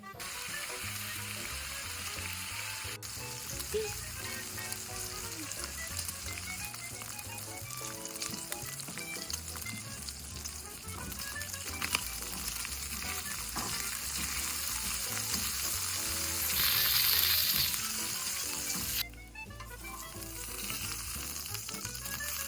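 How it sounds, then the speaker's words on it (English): Bacon lardons sizzle steadily in a pan for beef bourguignon with a continuous crackling hiss, close up, with occasional light clinks and stirring. "These little pieces of bacon are called lardons. They're going to start to cook here in a second."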